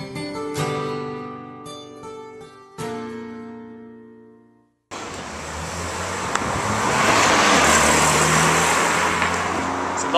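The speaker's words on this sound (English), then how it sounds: "It's a boxster." A Porsche Boxster sports car drives past on a mild day, its engine and tire noise swelling into a broad, loud rush that sustains for several seconds after a quiet stretch of tonal background sound.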